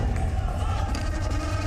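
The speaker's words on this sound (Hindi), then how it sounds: "जोरदार तालियां" Loud applause and crowd noise from an audience at a Madhya Pradesh election debate, a dense, steady roar of clapping and cheering filling the short stretch without pause.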